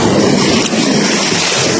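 Large waves crash against a gutter, a loud, dense wash of surging water that roars continuously over the whole stretch without a break.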